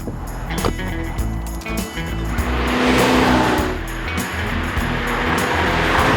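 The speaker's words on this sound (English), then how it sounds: "that exhaust sounds fantastic, especially if you've got the roof peeled back" A convertible Abarth 500's exhaust roars steadily close by, with a rasping drone that swells and holds, broken by a few sharp pops early on.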